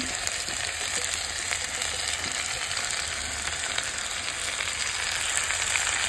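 Washed red lentils (masoor dal), 150 grams, hitting a hot pan for a lentil chorchori, giving a steady, dense sizzle of frying that holds evenly throughout without any talk.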